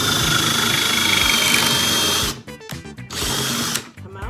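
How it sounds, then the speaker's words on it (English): A power drill bores a pocket hole into a 2x4 held in a Wetols pocket hole clamp jig, a loud close whirring that cuts off, sputters in short bursts, then revs again briefly. "Go halfway, and then start the drill."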